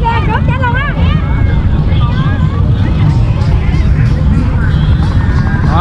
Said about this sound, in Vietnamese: Rất là nhiều ghe phía sau nghe bà con.